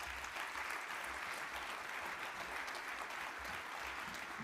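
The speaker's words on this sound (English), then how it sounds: "Please give the panelists a great round of applause." A conference audience gives a steady round of applause for a panel at an army event, a broad, even wash of clapping from a large hall, sustained without a break.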